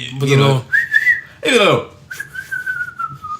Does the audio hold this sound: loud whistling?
yes